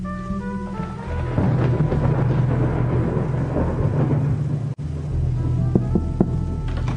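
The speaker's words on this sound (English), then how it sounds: "My latest case began with thunder." A thunder sound effect in a radio drama rolls in as a loud, sustained low rumble lasting several seconds, with a brief dropout and a few sharper cracks near the end and no talking.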